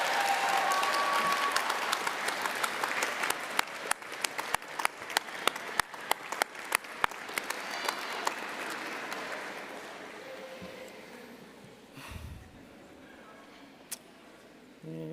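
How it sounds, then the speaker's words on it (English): A crowd at a university commencement ceremony gives loud, sustained applause, with scattered sharp individual claps standing out. It gradually tapers off to a quieter hall with a few lingering claps. "find your people in the audience, and give them a round of applause"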